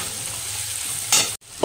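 Ground coriander, cumin, turmeric and dried chili go into hot oil for masala dal, making a steady low sizzle that flares louder for a moment before a sudden brief cut and a fresh burst.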